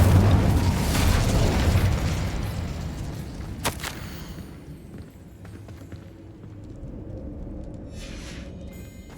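Incendio fire spell cast in Hogwarts Legacy, a loud whooshing burst of flame and rumble at the start that fades away, followed by a sharp crack and softer scattered effects and footsteps later, with no voices.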